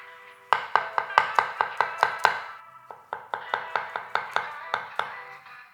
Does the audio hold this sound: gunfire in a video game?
no